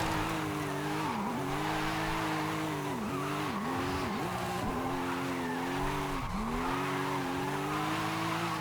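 Loud, continuous engine revving with sweeping pitch dips and sustained tire squeal from a rear-engined wheelspin drift build in the racing game Forza Horizon 5, running steadily throughout with no talk.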